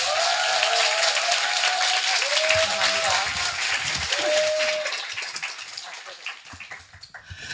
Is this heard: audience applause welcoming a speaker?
yes